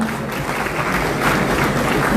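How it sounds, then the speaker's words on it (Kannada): Steady applause from an audience at a revenue-village title deed distribution ceremony on a stage in Belagavi, sustained and even throughout with no break. "ವೇದಿಕೆ ಮೇಲೆ ಒಂದು ಚಪ್ಪಾಳೆಯನ್ನ ನೀಡ್ತಾ"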